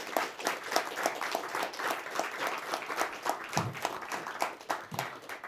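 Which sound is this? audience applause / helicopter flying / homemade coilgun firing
audience applause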